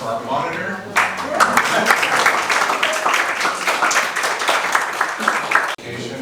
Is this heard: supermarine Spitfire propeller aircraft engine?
no